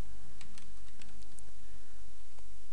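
Keys typed on a computer keyboard while entering a GW-BASIC program, a few light scattered clicks over a low background hum, no talking.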